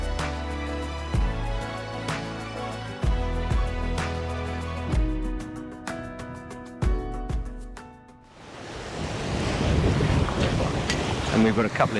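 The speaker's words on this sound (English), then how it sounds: "light winds and really nice winds now, so it looks like we've got about 15 to 18 knots true" Wind roars across the microphone aboard a Heyman 42 deck-saloon cruising yacht sailing off Kiel in roughly 15 to 18 knots. Music plays first, then the loud, steady wind rush takes over for the final seconds.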